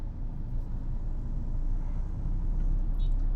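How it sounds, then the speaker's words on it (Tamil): Engine of a manual car in Chennai city traffic, just after a downshift from third to second gear: a quiet, steady low engine hum with faint road noise, fairly even throughout. "தேர்ட்லேருந்து செகண்ட் வந்துட்டேன்."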